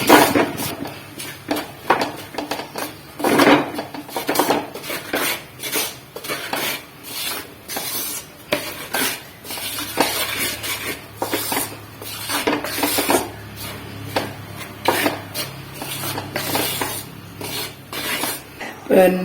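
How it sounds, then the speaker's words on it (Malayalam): Fenugreek powder and spices being stirred and roasted in a pan for a tapioca and fish curry meal: steady scraping and rubbing of a utensil against the pan, repeated in quick strokes, close and fairly loud, with no talk. "ഇനി നമ്മൾ ഒരു സ്വല്പം ഉലുവാപ്പൊടിയൂടെ നമുക്കിതിനകത്ത് ഇടാം. എന്നിട്ട് ഇത് നന്നായി ഒന്ന് മൂപ്പിച്ച് എടുക്കാം."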